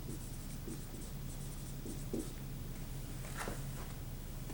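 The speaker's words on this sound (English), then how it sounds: "So let's go ahead and write that down." Pen writing notes on paper during a heart anatomy lesson, a faint scratching of short strokes against a steady background hum.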